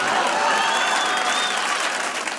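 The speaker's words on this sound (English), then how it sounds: "Don't be clapping." Comedy club audience clapping during a stand-up set, a loud sustained wash of applause with faint whistles rising over it, tapering slightly toward the end.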